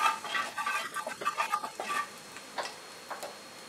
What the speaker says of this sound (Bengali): ফোড়নটাকে আমি ফ্রাই করব